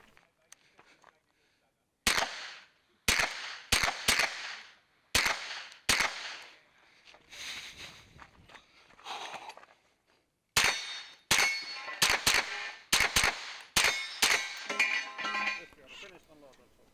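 Pistol-caliber carbine shots ring out at an IPSC classifier stage of a Finncup 2024 match, starting from a kneeling box: two bursts of sharp cracks with steel-target clangs, a quiet gap between them.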